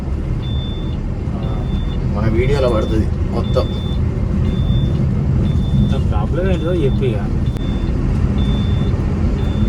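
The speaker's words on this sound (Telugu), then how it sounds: "డెఫ్ డోసింగ్ సో దానివల్ల ఈ బీప్ సౌండ్ అయితే వస్తూ ఉన్నది" A short electronic beep from a truck's DEF dosing warning repeats at a steady interval over the running engine's rumble, with someone talking in between.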